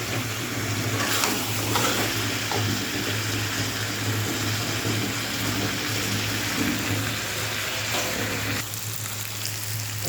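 Five onions sizzle and fry in a pan while being slowly sautéed with spices, a steady close hiss with a constant low hum beneath and occasional stirring scrapes.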